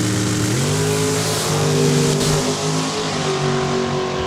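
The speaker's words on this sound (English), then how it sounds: "looks like RWH Motorsports Dragster gets the bye run" RWH Motorsports dragster at Saskatchewan International Raceway in Saskatoon: a loud, close engine roar whose pitch climbs sharply after a moment, then holds a strong, steady, buzzing drone.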